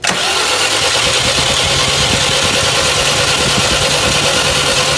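A Toyota GLI car engine starts up, cranking and catching at once into a loud, steady close-up running drone that holds for several seconds with no voices.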